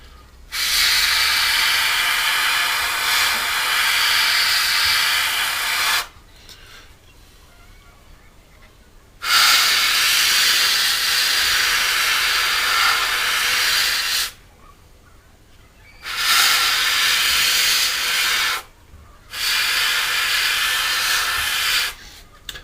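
An airbrush sprays Future clear coat onto a Hasegawa 1/48 Harrier GR7 model in four long, steady hissing bursts of several seconds each, separated by short quiet gaps, close and fairly loud.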